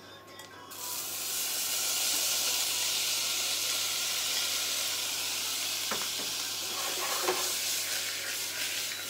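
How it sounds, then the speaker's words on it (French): Mixed spring vegetables with ginger sizzle steadily in a frying pan, a loud continuous crackling hiss with a few stirring clunks near the end. "Vous voyez, ça crépite bien"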